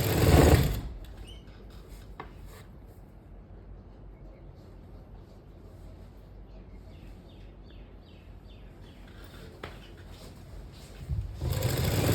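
A sewing machine stitches a straight seam on fabric, its needle running in a steady fast rattle through the middle, with louder handling noise at the start and end.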